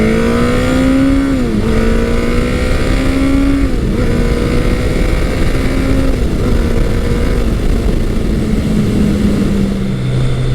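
A Kawasaki ZL900 Eliminator motorcycle engine accelerates hard and loud, its pitch climbing through each gear with brief dips at the shifts, a steady roar throughout with no talking.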